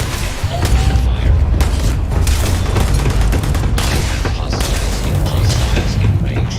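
Gunfire and explosive booms in the space combat game Starfield pound continuously, loud and dense, with rapid bursts layered over a heavy low rumble.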